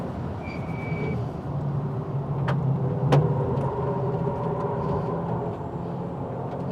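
Toyota GR86 sports car lapping Tsukuba circuit, a steady engine drone with changing pitch heard from inside or near the car, fairly loud and continuous, with no speech.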